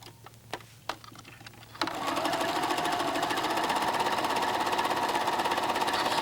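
A White Model 9800 sewing machine stitches fabric, starting after a few light clicks and then running in a fast, steady mechanical chatter, close and continuous.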